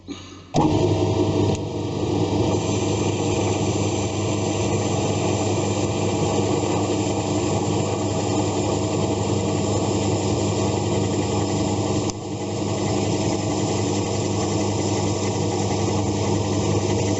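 A metal lathe turns aluminium with an insert tool, giving a loud, steady machine whir with a constant mechanical drone that starts abruptly and runs with only a brief dip partway through, with no talking.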